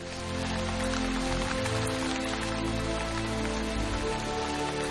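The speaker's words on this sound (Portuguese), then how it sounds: "Chuva caindo nas rochas quentes" Dense, steady rain hisses and patters on hot rocks, loud and continuous with no break.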